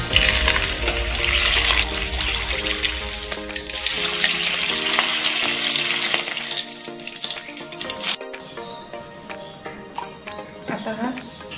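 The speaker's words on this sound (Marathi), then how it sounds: "आता आपण मिरची तळून घेऊया." Green chillies deep fry in hot oil with a loud, dense, steady sizzle that drops away abruptly partway through. Quieter clatter and some faint voice follow.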